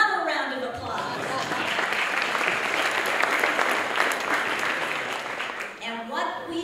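Audience at a chamber of commerce small business awards event breaks into sustained, dense applause lasting several seconds before it tapers off, with a voice speaking at the start and end.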